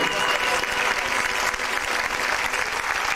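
A large stadium crowd at a Hungary–Mexico match applauds a 14-year-old, a dense, continuous roar of clapping and cheering that stays loud and even throughout.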